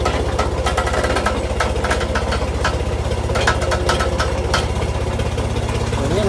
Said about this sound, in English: I'll show you a little bit of this 1968 Massey Ferguson 135 gasoline. Four-cylinder, four-speed.